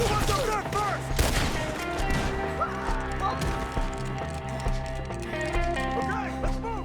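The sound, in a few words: gunfight in video game Red Dead Redemption 2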